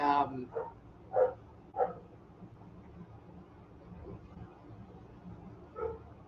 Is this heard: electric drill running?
no